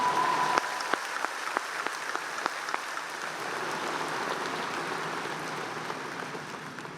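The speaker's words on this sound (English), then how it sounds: "Please give Natalie a round of applause." Audience applause fills a high school commencement ceremony, steady clapping from a large crowd with a few sharper claps early on, fading slightly toward the end.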